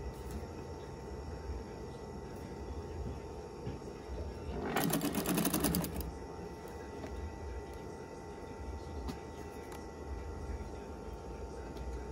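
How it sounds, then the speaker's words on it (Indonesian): An electric sewing machine stitches fabric for a curtain in one rapid, steady burst lasting about a second, clearly audible over a constant low room hum, with no talking. "Jahit terus ya."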